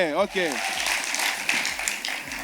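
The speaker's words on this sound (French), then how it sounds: "Est-ce qu'on peut applaudir pour tout le monde?" An audience at a speaking event claps in a steady patter beneath a voice, which talks at the start and drops in briefly throughout.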